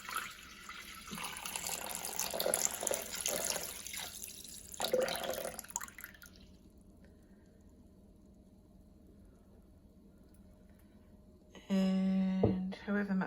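Berry cordial poured into a bowl in a home kitchen, a steady liquid splash running loud for several seconds before fading, then a brief tonal clatter near the end.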